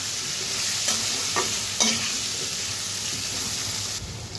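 Steady sizzling of food frying in a pan, with a few soft stirring scrapes over the continuous hiss.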